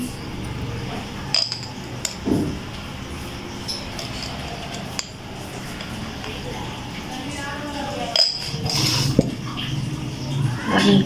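A spoon mixing ground powdered sugar into a mango dessert in a home kitchen, with light clinks and scraping against the bowl under continuous talking.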